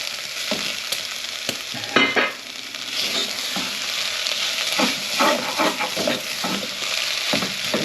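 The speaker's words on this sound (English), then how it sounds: "the lovely browned mince goes in. You can hear it's still sizzling." Browned mince sizzles in a frying pan with mushrooms, a steady crackling hiss with occasional stirring scrapes and spatters, close and continuous with no talking.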